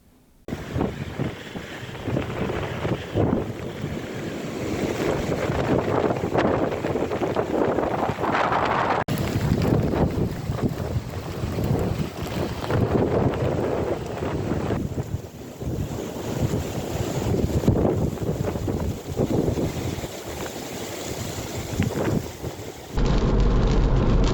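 Storm weather outdoors: steady loud wind buffeting the microphone with rain and rumbling thunder throughout, broadband roar with occasional deeper booms, no talking.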